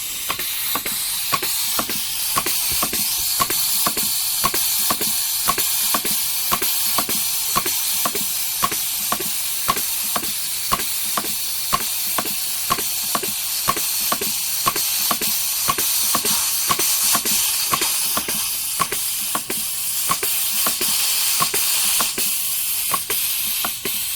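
A Kenrich GP-3A machine running after being switched on, a loud, even, rapid mechanical ticking over a constant airy hiss that holds steady throughout, with no one speaking.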